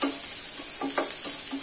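Okra frying in a pan with a pinch of asafoetida, a steady close sizzle with light stirring scrapes over it.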